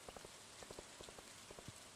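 Steady rain in the farming video game Stardew Valley, a dense even hiss of falling drops with scattered soft patters and low tapping sounds throughout, no voices.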